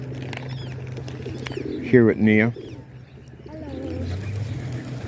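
Pigeons coo briefly at close range during outdoor feeding, a short burst of cooing between other faint bird calls, with people talking nearby.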